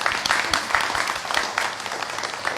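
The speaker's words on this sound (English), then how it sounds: "please give yourselves a round of applause." Audience applause at a book club event with author Anand Neelakantan, a steady wash of many hands clapping continuously at moderate loudness with no voices over it.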